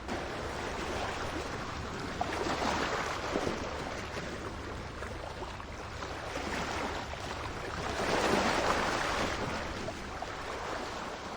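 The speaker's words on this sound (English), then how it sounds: "The gentle sea breeze and the sound of crashing waves made the atmosphere even more delightful." Steady rushing surf with broad swells of wash rising and falling, a louder surge near the end, no voices.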